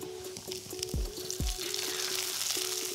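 Cherry tomatoes fry in a pan, giving a continuous close sizzle with a couple of low thumps and a steady hum underneath.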